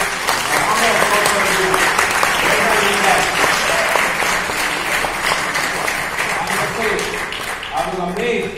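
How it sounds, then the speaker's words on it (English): An audience breaks into sustained applause at a speaking event, a dense steady clatter of many hands clapping at even loudness throughout, with faint voices beneath. "Let me start with a round of applause for all the organizers"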